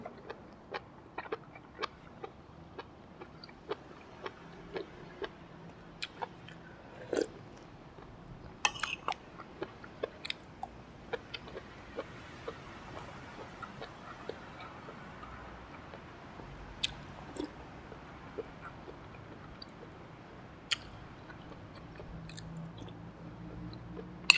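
Close, crunchy chewing of stir-fried oyster mushrooms with irregular crisp bites and soft wet squishes, steady throughout with no talking.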